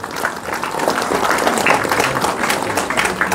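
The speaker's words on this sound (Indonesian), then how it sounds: "Tepuk tangan untuk Bustanul Ulum." A hall audience claps for a madrasah's 37th anniversary celebration, with loud, continuous, dense applause rolling on steadily for a few seconds.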